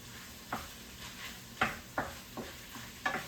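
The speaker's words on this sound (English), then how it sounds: "And I'm going to stir this around." Sausage and zucchini get stirred around in a pan over a soft background sizzle, with a handful of distinct scraping strokes at uneven intervals, fairly close and moderately quiet.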